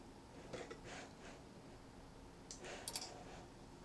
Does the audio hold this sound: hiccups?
no